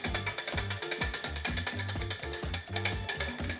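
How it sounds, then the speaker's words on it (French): Wire whisk beating an egg-yolk sabayon for hollandaise sauce in a bowl, a fast steady rhythmic scraping and clicking that repeats several times a second, close and loud with no talking. "On continue à fouetter."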